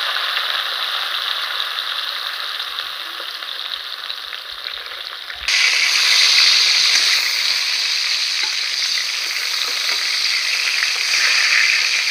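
Eggplant slices fry in a pan with a bright, continuous sizzle and occasional scraping stirs, the hiss jumping noticeably louder about halfway through.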